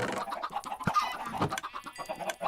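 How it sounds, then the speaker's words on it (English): Chickens in a chicken farm in a Minecraft-style video game, a busy overlapping chorus of clucks and short squawks, close and continuous, with no speech. "More chickens. More chickens for the chicken farm."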